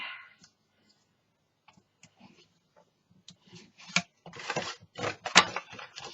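Card stock is scored along fold lines: sparse faint ticks at first, then a denser run of sharp, close clicks and rasping scrapes, with a little quiet speech in the background.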